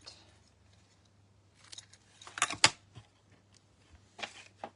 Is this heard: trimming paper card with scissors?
yes